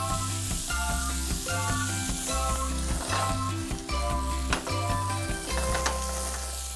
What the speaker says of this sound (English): I'll give the pork a bit of a stir around, and you can see that's starting to brown off beautifully